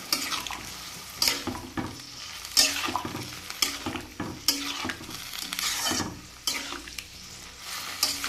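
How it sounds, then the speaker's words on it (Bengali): A vegetable curry sizzles in a pan while being stirred, with repeated scraping strokes and light clinks of the utensil on the pan over a continuous close frying hiss. "এবার এটা মিশিয়ে দেবো।"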